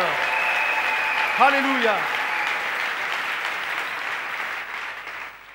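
A church congregation at a French-language service applauds, steady clapping filling the room while a single voice sings out a short exclamation near the start.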